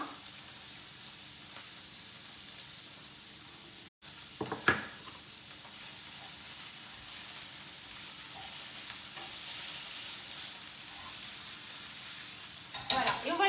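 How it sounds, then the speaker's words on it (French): Artichokes with thyme and olive oil simmer in a pan on lowered heat, giving a soft continuous sizzle with occasional stirring clicks and scrapes, close and without talk. "on va laisser ça quelques petites minutes, mijoter tranquillement"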